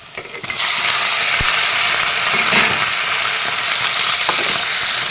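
Chicken pieces dropped into a pan of browned onions burst into loud, steady sizzling frying, starting abruptly after a short quieter moment and holding close and dense with a few faint stirring clicks.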